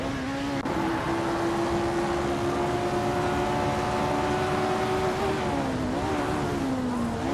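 Race cars roar steadily in an AI-driven video game race, a loud continuous engine drone holding pitch before shifting and dipping near the end, with no talk.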